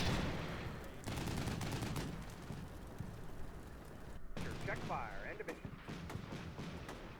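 Gunfire in the video game Combat Mission Shock Force 2, a sustained crackle of shots and bursts running throughout, with a voice speaking over it.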